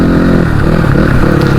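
A motorcycle engine labors loudly and close on a rough jungle trail, a steady low droning rumble with slight rattling throughout.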